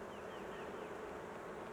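Honey bees buzz steadily during a spring hive inspection, a dense, continuous drone with a few individual bees passing close, no talking.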